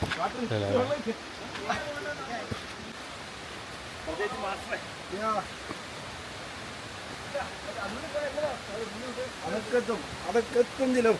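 A waterfall over rocks in an Australian forest makes a constant rushing roar beneath voices that speak on and off across the whole stretch.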